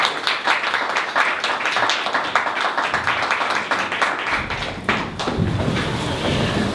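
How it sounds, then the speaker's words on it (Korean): Dense applause from an audience welcoming a speaker at a Korean seminar-style event, many hands clapping steadily and fairly close, thinning into scattered claps near the end. "큰 박수 부탁드립니다"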